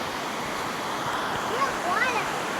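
Steady rushing water of a waterfall on Koh Chang Island, a constant broad roar with faint voices briefly rising over it.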